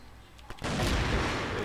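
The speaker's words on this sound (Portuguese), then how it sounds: "Altos tiros aqui." Gunfire in the video game CrossFire, a brief pop followed by a sudden loud, booming sustained burst of shooting that fills the rest of the moment.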